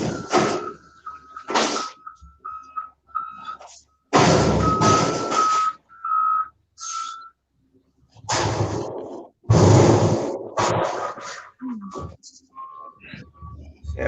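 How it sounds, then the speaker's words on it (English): A garbage truck works nearby with intermittent reversing beeps, thunks and mechanical bursts separated by quiet gaps, moderately loud and stop-start. "Here comes the doggone garbage truck."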